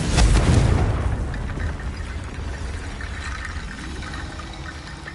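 A Confringo blasting spell goes off in Hogwarts Legacy as one loud close boom at the start, fading into a long rumbling, crackling decay.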